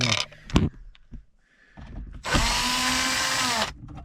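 A few scattered clicks and thumps, then a power drill with a magnetic bit whirs loudly at high speed for about a second and a half before winding down, while installing a stereo in a 2012–2015 Hyundai Elantra.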